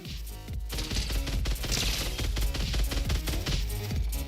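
Rapid automatic fire from a Golden Scar assault rifle in OG Fortnite, a dense continuous volley of loud gunshots lasting several seconds with no talk over it.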